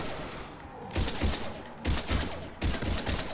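Heavy gunfire in a Mass Effect 3 firefight against Husks, three loud bursts of rattling shots separated by quieter gaps filled with distant battle noise.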